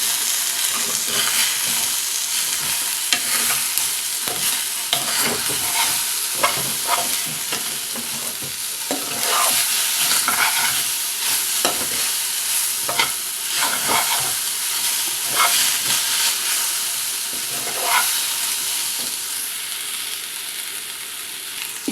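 Eggplant fry with gram flour being stirred in a pan, steady sizzling under repeated scraping and stirring strokes at an uneven rhythm, close and fairly loud, no voices.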